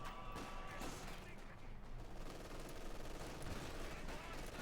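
Rapid MG42 machine gun bursts in the strategy game Company of Heroes 2, mixed with other battlefield gunfire and crashes, dense and continuous throughout.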